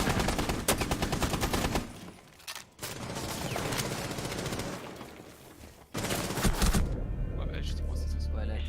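Bursts of rapid gunfire in a tactical shooter video game, crackling volleys separated by short pauses, with voices talking over parts of the action.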